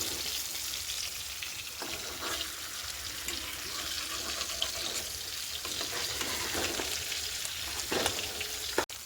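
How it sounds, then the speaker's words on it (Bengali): Hilsa fish fries in oil with a continuous close sizzle and spitting crackle, a few louder pops and stirring clinks rising over the steady hiss. "ইলিশ মাছটা প্রায় ভাজা হয়ে গেছে"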